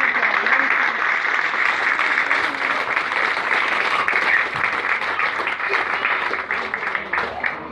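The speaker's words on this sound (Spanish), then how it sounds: "Vamos a dar un fuerte aplauso a Roberto." Audience applause at a political campaign event rises as a sustained, loud wave of clapping from a crowd, steady for several seconds with some scattered voices beneath.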